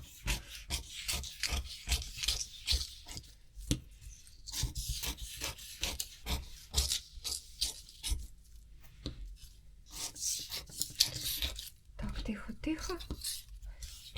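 Scissors cutting paper in a series of quick rhythmic snips and rasping strokes, close and fairly quiet, with someone talking softly between cuts.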